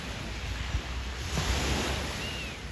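Lake water laps and washes against the shore near Geneva's Jet d'Eau, a steady broadband rush with wind noise on the microphone, moderately loud and continuous, no voices.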